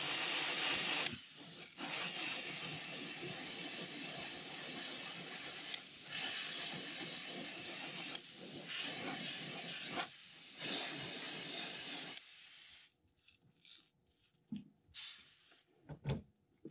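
Spray painting a coat onto the belly of a custom crankbait fishing lure: a steady airbrush hiss runs for about twelve seconds with brief pauses, then stops, leaving faint scattered handling noises.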